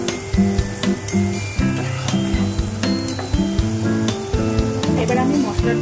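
Potatoes and cauliflower sizzle loudly in a pan while being stirred, with frequent clattering scrapes and knocks of a utensil against the pan throughout.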